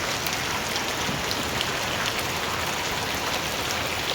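Heavy monsoon rain pours down in a dense, unbroken hiss of drops striking surfaces nearby, loud and even throughout, with no voices over it.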